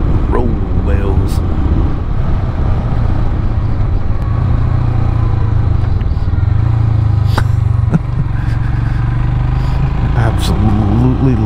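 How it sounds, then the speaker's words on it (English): Royal Enfield Himalayan motorcycle engine compression braking on a country road, a loud, continuous low rumble heard up close whose pitch sags and shifts as the bike slows, with steady wind roar and occasional clatter throughout. "Absolutely love the compression braking."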